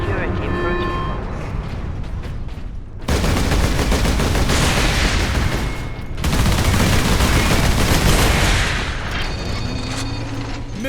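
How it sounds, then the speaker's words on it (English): Turret gunfire in the Space Marine video game, a relentless, loud stream of rapid mechanical shots that swells in two heavy waves, with a voice speaking over the din. "No way to move quickly with these guns everywhere."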